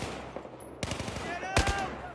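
Gunfire in the video game Battlefield 4 cracks in a few sharp bursts, one around the middle and another heavier near the end, over faint background noise and quiet player chatter.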